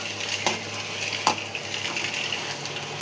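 Curry ingredients frying in a pan until golden, a steady close sizzle broken by a few sharp utensil clicks and scrapes against the pan, with no talking.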